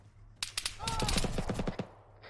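Heavy machine gun in the video game Arma 3 fires a rapid burst of about a dozen sharp, close shots in steady rhythm, with a faint voice underneath.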